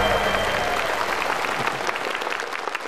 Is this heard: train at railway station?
no